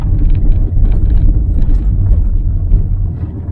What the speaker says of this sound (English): Here comes another truck.